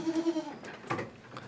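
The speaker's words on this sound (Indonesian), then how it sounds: "Nah ini ada kambing yang agak bermasalah dengan kakinya nih." A Jawa Randu goat with weak, troubled legs bleats nearby, a quavering wavering call of under half a second, followed by brief shuffling and faint background noise.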